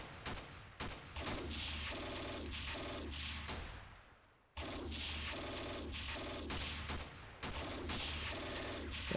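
Repeated bursts of gunfire and shell blasts from the WWII strategy game Steel Panthers, loud and continuous with a brief pause midway, no talk over them.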